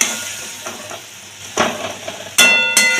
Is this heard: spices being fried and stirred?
yes